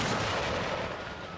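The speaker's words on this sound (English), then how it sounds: "just another example of the new cannon sounds" Cannon fire in a battle from the strategy game Empires of Europe, a dense, loud wash of booming blasts and rumble that holds steady throughout without any voices.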